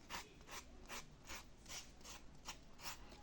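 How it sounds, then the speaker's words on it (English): Sandpaper rubbed by hand over a sandal insole, heard as a steady run of about eight rhythmic rasping strokes, close and fairly quiet, with no talking. "So I want to also use my sandpaper."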